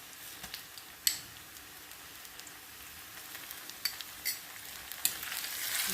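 Chopped tomatoes hit a pan of cooked onions and sizzle steadily, with occasional louder crackles and spoon scrapes as the mixture is stirred.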